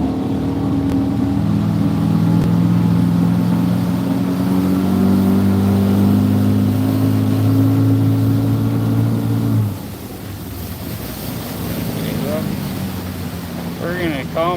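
A speedboat's motor runs loud and steady with layered droning harmonics, then drops to a quieter idle about two-thirds through, with wind buffeting the microphone and brief voices and chirps near the end.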